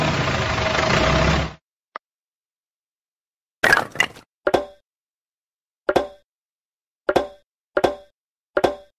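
A tractor engine chugs and idles in a rough, steady burst lasting about a second and a half, then stops abruptly, leaving silence broken by several sharp, separate clicks and knocks.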